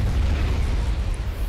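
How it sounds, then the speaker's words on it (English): Missiles explode in the strategy game Supreme Commander: Forged Alliance, a loud, continuous low rumbling blast with dense crackle, sustained without a break. "Nope, those are missiles."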